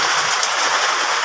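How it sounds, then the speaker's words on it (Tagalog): Heavy rain pours steadily on a house roof that is leaking into the kitchen, a dense, continuous hiss with no pauses, loud and close throughout. "Oh guys, naulan po dito guys."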